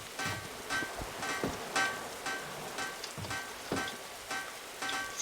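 Steady rain in a raft survival video game, a dense continuous hiss broken by recurring soft thuds and a faint repeating tonal hum, with no talking.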